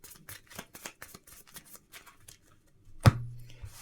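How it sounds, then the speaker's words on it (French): A card from a Marvel Champions deck being shuffled back in, with a run of quick light riffling flicks at close range, then a brief sharper tap and shuffle near the end. "je vais mélanger cette carte dans mon deck"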